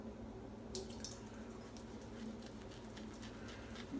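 A little water drips and patters onto shaving soap during a morning shave, with soft, irregular splashes that stay quiet and close and no talking.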